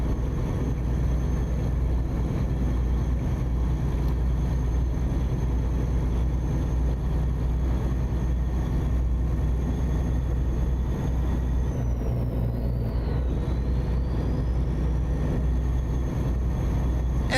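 A Lone Star truck engine fitted with an aftermarket engine sound mod in American Truck Simulator drones steadily and loudly at a low pitch, with a brief high whine sweeping partway through.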